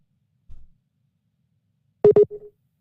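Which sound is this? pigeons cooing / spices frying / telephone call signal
telephone call signal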